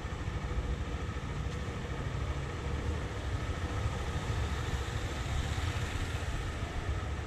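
Motorcycle engine running steadily on a straight during a motorcycle licence training ride, a loud, constant drone with no clear rise in revs, heard alone without talk.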